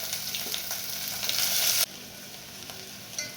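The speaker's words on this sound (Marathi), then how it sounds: "आता आपण यामध्ये आपला खडा मसाला टाकून घेऊ। तो परतला गेला की आपण यामध्ये कांदा टाकून घ्यायचा आहे।" Whole spices and onion frying in hot oil, a steady dense sizzle that drops abruptly to a softer, lower hiss partway through, close and continuous with no talk.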